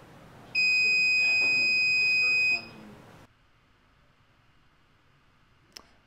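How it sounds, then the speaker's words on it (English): A Slack notification light-up sign gives one loud, steady electronic beep lasting about two seconds, followed by quiet room hum and a faint click. "we get a beep and we get our sign flashing on and off whenever anyone posts anything to that channel"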